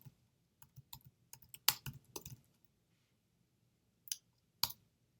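Keys tapped on a computer keyboard while entering a search query, a few sparse clicks and short bursts separated by quiet gaps, close and fairly faint, with no talking.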